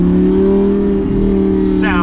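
A 2014 Lamborghini Gallardo LP550-2 accelerating hard in sport mode, a loud, close, sustained engine drone with steady strong tones throughout, heard from inside the car.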